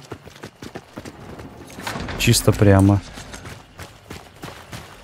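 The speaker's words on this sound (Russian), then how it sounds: "Лошадь." Horse hooves clip-clop in the Louisiana bayou setting of the video game Hunt: Showdown. Rhythmic hoof strikes run throughout, and someone speaks briefly over the middle.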